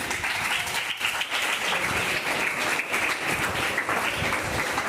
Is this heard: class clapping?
yes